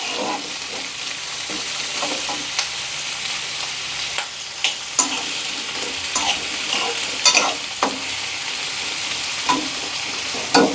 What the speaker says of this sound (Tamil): முள்ளங்கி இருக்கு இல்லையா அதையும் சேர்த்துக்கிறேன் நான் அதையும் சேர்த்து சும்மா ரெண்டு நிமிஷம் வதக்கினா போதுங்க